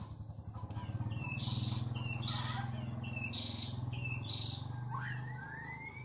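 A caged perenjak (prinia) songbird at a bird dealer's shop sings a series of short, repeated high chirps and trills over a steady low mechanical hum, fairly faint.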